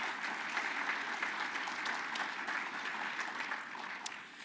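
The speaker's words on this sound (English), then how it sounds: "Please, a round of applause for our two presenting sponsors" Conference attendees clap for event sponsors at a technology forum, producing a continuous, fairly faint wash of applause from a sizable crowd, with occasional sharper claps.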